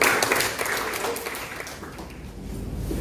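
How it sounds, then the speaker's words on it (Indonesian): Applause from students in a classroom for a group that has just finished presenting a chemistry lesson, a steady wash of many hands clapping that fades slightly toward the end. "kita beri aplaus yang meriah untuk kelompok ini"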